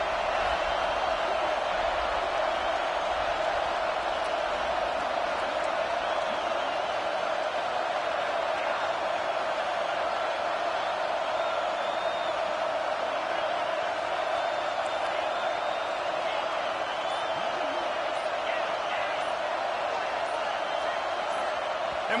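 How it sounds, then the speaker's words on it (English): A college football stadium crowd roars in a steady, dense wash of noise, with a commentator talking over it throughout. "And with this place rocking, the crowd forces a false start."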